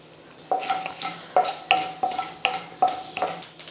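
Mustard seeds, cumin, a bay leaf, cinnamon and cloves temper in hot oil in a kadai that has just been used for frying vada. A spoon scrapes and knocks against the metal in a steady rhythm of sharp clinks over a faint sizzle.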